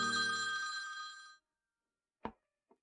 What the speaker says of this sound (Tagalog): Yuan Yuan, Ting Ting, telepono ninyo